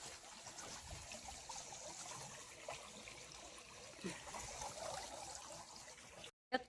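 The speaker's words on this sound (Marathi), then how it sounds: "नळी चालू झाली, करून आलीच नळी चालू." Water runs from a hose into buckets at home, a soft steady trickle and splash, faint and continuous, cutting off briefly near the end.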